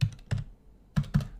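Code is typed on a computer keyboard in four crisp, close keystrokes, two quick taps, a short pause, then two more, with no talking.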